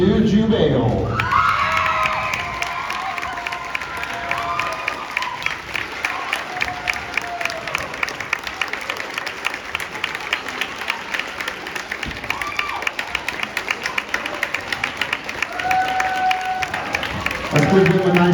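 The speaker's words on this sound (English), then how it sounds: "Let's give them a nice round of applause." Audience applause and cheering with whoops fill a school awards ceremony for a regional middle-school engineering competition, a dense, sustained roar of clapping that lasts throughout at full strength, with a brief lull near the start before swelling again.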